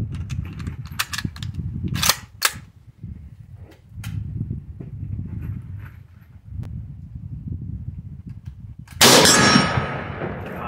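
A Mosin Nagant rifle fires outdoors, with several sharp sudden cracks spaced a few seconds apart over low background rumble and a louder hissing burst near the end.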